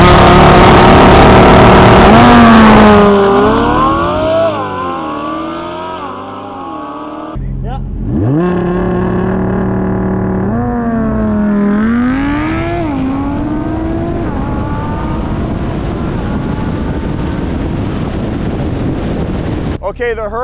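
A Lamborghini Huracan LP610-4 with all-wheel drive and a two-wheel-drive C8 Corvette Stingray accelerate hard in a drag race, their engines rising through repeated gear shifts with heavy wind noise buffeting the microphone, and a voice speaks over them.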